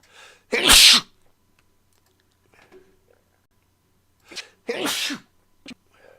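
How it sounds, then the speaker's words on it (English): Two loud sneezes close by, each a sharp burst with a short intake before it, separated by several seconds of near silence with faint small sounds. "I'm going to sneeze again."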